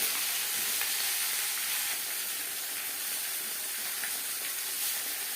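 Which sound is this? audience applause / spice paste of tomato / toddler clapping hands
spice paste of tomato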